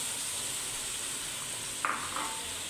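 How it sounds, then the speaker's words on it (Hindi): Yogurt added to a pan of sizzling white chicken karahi, a steady low frying hiss broken near the end by a couple of brief, brighter bursts of spitting. "अब हम इसके अंदर दही ऐड कर देंगे"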